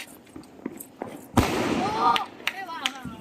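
Diwali firecracker shots go off at home: a sharp burst followed by crackling and whistling pops, with people talking throughout.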